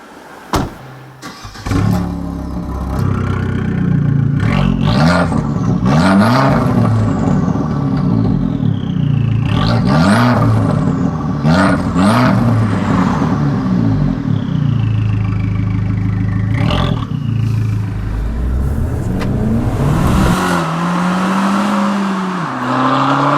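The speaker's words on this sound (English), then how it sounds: "Let's just hop in and go for a drive." An Abarth 695 70th Anniversario hatchback starts off and accelerates through several gears, its engine rising in repeated rev sweeps with brief dips at each shift, loud and close from the cabin, then settling to a steadier drone.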